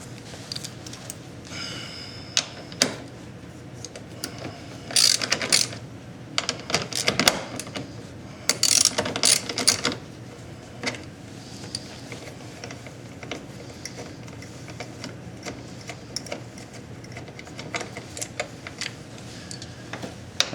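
Hand ratchet and basic hand tools working 10mm bolts on the rear fender tail light area of a third-generation Nissan Murano, giving rapid clicking ratchet bursts in uneven spurts, close up, with no talk.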